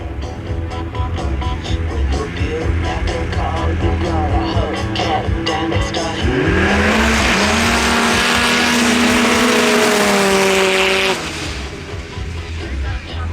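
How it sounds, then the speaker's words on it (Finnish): Snowmobiles launch off the line in the final start of a drag race final at Haukipudas, Finland, 2024. Loud engines build into a rising, howling whine that holds for several seconds, then drops away as the sleds pull off. "viimeinen Haukiputaan moottorikelkkailijoiden tämän vuoden Drag Race -kiihdyskilpailujen lähtö alkaa"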